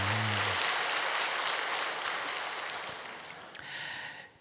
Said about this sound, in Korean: 축복 박수 한번 할까요?